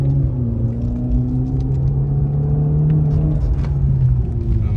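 Steady engine drone and low rumble from a 2014 Ford Fusion running in sport mode at night, heard from inside the car as a continuous, fairly loud hum with no talking.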